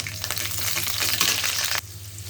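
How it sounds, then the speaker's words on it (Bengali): Garlic cloves fry in mustard oil in a wok with a steady, close sizzle and crackle that drops off sharply near the end, leaving a quieter hiss. "রসুনের কোয়া একটু সুন্দর করে ভেজে নিব লাল লাল করে।"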